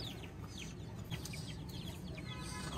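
Chicks and hens cluck and peep softly in a farmyard coop at dusk, a steady murmur of small calls over low background noise.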